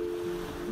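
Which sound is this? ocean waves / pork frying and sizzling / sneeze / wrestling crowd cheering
ocean waves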